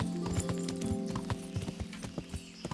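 Hooves clip-clop in a steady, regular rhythm as a horse is ridden toward Rovna in Kingdom Come: Deliverance, From the Ashes DLC, close and continuous over a low ambient game music bed.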